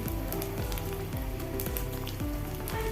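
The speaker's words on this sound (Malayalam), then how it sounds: "കട്ട് ചെയ്ത് വെളുത്തുള്ളി ചേർത്ത് കൊടുക്കാം വെളുത്തുള്ളി ഒന്ന് വാടി വന്നാൽ മതി" Sliced garlic sizzles steadily in hot oil while a mango ginger pickle is being cooked. The frying is a continuous crackle, broken by a few rhythmic scraping or stirring strokes. No one speaks.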